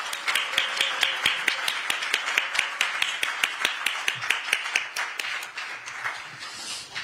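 A crowd at a political party launch event claps in unison, a steady rhythmic beat of sharp, evenly spaced claps that keeps time for several seconds before loosening and fading toward the end.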